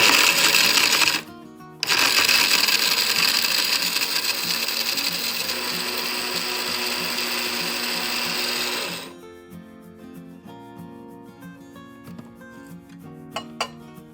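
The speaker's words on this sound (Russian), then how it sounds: "Полностью остывшие специи смелим в кофемолке." A coffee grinder whirs as it grinds cooled spices for a Colombo curry blend: a steady loud grinding roar with a brief pause near the start, then it cuts off, leaving quiet clinks and handling noises.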